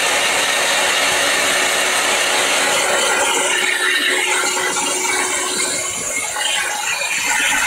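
A heat tool runs steadily and close, drying VersaFine Vintage Sepia stamped ink on a paper craft tag, a loud constant whirring blast with a faint tonal hum that barely changes throughout.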